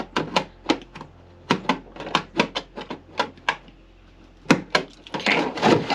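Scissors snip through a plastic milk jug in a series of sharp, close crunching cuts in irregular bursts, ending with a rougher rustle of plastic handling.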